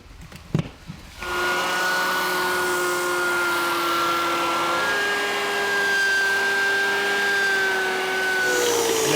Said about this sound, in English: give me the strongest sander you have